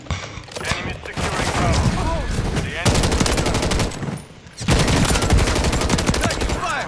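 Sustained automatic gunfire rattles through a Call of Duty Modern Warfare 3 multiplayer match in long, loud bursts broken by brief pauses, with game voices and chatter mixed in.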